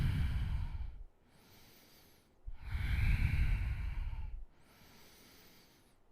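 Slow, deep breathing through the nose during a yoga class, long airy inhales and exhales alternating with quiet pauses, close and fairly soft.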